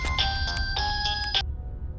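A phone rings with a bright electronic ringtone, a quick pattern of repeated tones that plays for over a second and then stops, heard over a low background hum.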